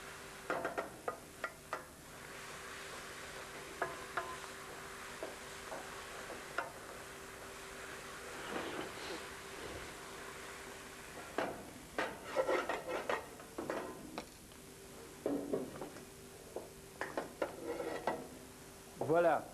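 Ham and spinach mixture stirred in a hot pan, with a soft sizzle under intermittent scraping and clinking of a utensil against the pan, the stirring coming in bursts with quieter gaps between.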